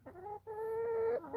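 Chickens clucking close by in a backyard flock: one steady, drawn-out tonal call that dips briefly before continuing, with no talking.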